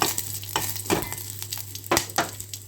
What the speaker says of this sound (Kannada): ಸ್ವಲ್ಪ ಎಣ್ಣೆ ಹಾಕಿ ಮೆಣಸಿನ್ಕಾಯಿ ಹುರ್ಕೊಳ್ಳು.